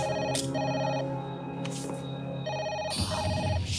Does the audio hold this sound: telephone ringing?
yes